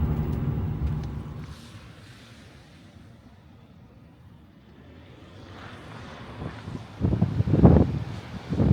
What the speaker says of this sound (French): il y a du vent, mais ça c'est le bord de mer